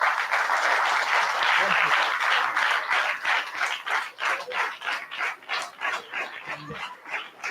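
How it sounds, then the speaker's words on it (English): An audience at a Navarathri temple gathering applauds a priest, starting as a dense wash of clapping that turns into rhythmic, pulsing claps, fairly soft overall. "Give a big applause to Kannan Mama"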